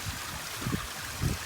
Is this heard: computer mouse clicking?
no